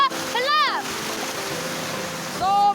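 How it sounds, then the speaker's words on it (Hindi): A small mini waterfall at a scenic spot in G. Udayagiri, Odisha, splashing in a steady rush throughout, with people talking over the water. "देखो मिनी वाटरफॉल"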